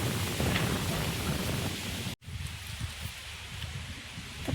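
Light drizzle on a farm field, a steady soft hiss of rain with leafy rustling that runs the whole time under wind, broken once by a brief dropout.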